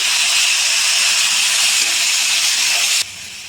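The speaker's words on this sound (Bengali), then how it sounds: "দেখুন বন্ধুরা আমি এটাতে এখন জল দিয়ে দিলাম।" Water poured into a hot pan of paneer gravy sets off a loud, intense hiss of steam that holds steady for about three seconds and then drops off abruptly to a quieter sizzle.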